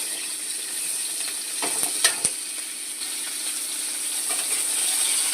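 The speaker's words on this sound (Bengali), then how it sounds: "আলু কাঁচা লঙ্কা ছেড়ে দিয়েছি ভেজে নিচ্ছি" Potatoes and green chillies frying in a pan for a quick fish curry, a continuous bright sizzle broken by a few spatula scrapes and taps near the middle, no talking over it.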